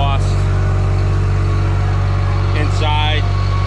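A Komatsu D51PX-22 dozer engine idles loud and steady throughout, a constant low diesel drone, with people talking over it.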